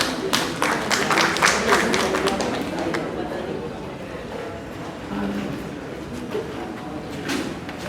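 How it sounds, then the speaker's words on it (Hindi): Audience at an Independence Day 2025 celebration at a Central Bank of India zonal office applauds, with dense clapping strongest early on, then thinning into a softer patter under background murmur. "बहुत बहुत तालियों के साथ अभिनंदन।"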